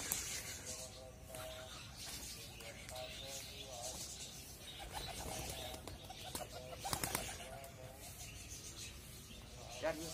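Pigeons, a white female among them, coo softly and flap off in flight, faint and intermittent, with someone talking quietly over them.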